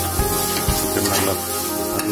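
Chicken being stir-fried in a pan for biryani, a loud close sizzle with scraping stir strokes over steady music.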